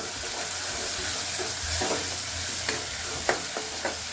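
Chopped tomatoes with turmeric, red chilli and ground cumin sizzle in oil on a low gas flame for Kathiyawadi gathiya nu shaak, with a constant close hiss broken by a few sharp stirring knocks.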